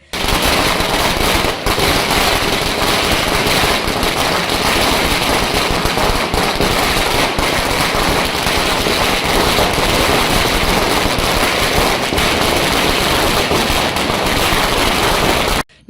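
A long, dense barrage of firecrackers bursts in rapid crackling succession at a college celebration, loud and nearly continuous, with sharper pops scattered through it.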